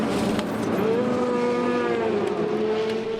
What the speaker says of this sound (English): Here's the number 8 Audi from 3rd position into the pit lane.